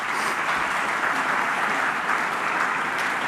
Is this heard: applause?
yes